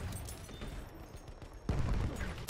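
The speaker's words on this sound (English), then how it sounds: "Here I'm actually able to shoot my gun properly and get a kill" Rapid gunfire from the player's weapon in Battlefield 1 crackles in dense bursts over a busy battlefield din, becoming louder and heavier in the final second.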